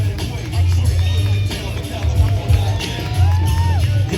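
Motocross crowd at the Bloomsburg Fair in Pennsylvania, a loud mass of cheering, whoops and shouts with a rumbling low drone underneath, while a voice talks over the noise.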